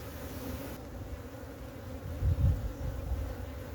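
A colony of Africanized bees living in a cracked old tomb hums with a steady, low buzz close by, swelling briefly louder partway through, with no voices.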